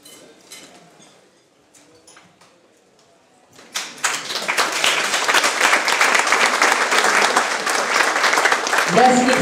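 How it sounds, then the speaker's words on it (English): An audience at an evening humanities talk on a city's urban plan bursts into loud, sustained applause after a few quiet seconds of low room noise and faint voices. "Let's give Sue Taylor a great round of applause."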